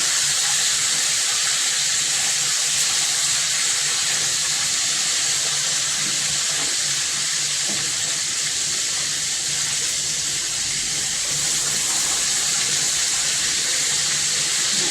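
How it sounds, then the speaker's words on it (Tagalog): Fish frying in hot cooking oil in a home kitchen, a loud, continuous sizzling hiss with dense crackling spatters that holds steady throughout, with no talk. "prito lang tayo ng isda"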